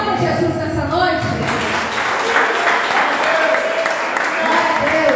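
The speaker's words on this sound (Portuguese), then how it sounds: "Aplauda Jesus nessa noite." Church congregation applauding during a worship service, a steady, dense, loud wash of clapping that fills the whole stretch without pause.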